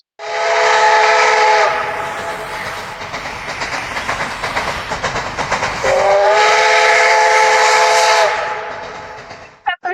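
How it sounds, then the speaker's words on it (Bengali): A train passes with loud steam whistle blasts at the start and again near the end, with rhythmic rail clatter in between. "ট্রেনের আওয়াজ তাই তো"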